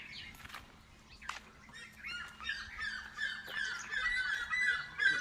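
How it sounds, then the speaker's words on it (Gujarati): Peacocks and peahens calling outdoors among a large flock, a series of loud, harsh squawks and rising cries coming from several birds at a moderate distance, gradually growing busier and louder toward the end. "ઘણા બધા મોટા મોરલા છે"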